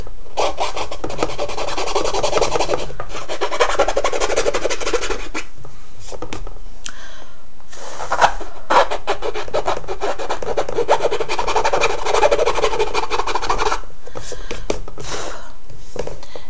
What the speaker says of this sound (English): sand it as best you can. From there with a regular flat sander.